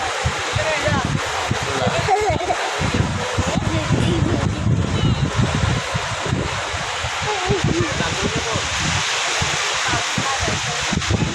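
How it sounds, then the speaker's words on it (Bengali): Large tidal waves wash onto a shore at Parki Beach in Chattogram, a continuous loud roaring surge mixed with wind buffeting the microphone, while people talk over it throughout. "জোয়ারের পানি নাকি, অনেক বড় বড় ঢেউ।"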